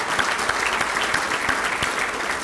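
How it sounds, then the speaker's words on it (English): Steady, full crowd applause for sponsors at a school district State of the District event, a dense continuous clapping wash with a few sharper claps near the front. "Let's give them all a big round of applause."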